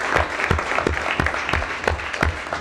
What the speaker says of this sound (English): let's give them, and again, to all of the students, a big round of applause for visiting us